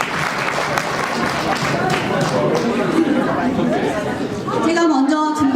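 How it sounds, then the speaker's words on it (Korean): An audience at a university festival concert claps for a band taking the stage, a dense wash of applause mixed with crowd chatter and a voice speaking over it. "뜨거운 박수 부탁합니다"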